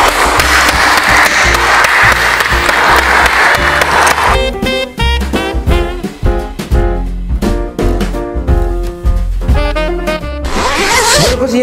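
Burst of loud applause during a home cooking show about air-fryer pandebonos, a few seconds of dense clapping that gives way to upbeat music with a driving beat, then a short noisy swell at the end.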